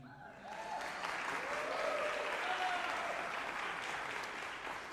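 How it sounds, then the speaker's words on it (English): Audience applause at a tuba guest artist recital: dense, steady clapping from a full room fills all five seconds, swelling slightly in the middle and easing toward the end. "you in the front, you only gave me like 3 claps"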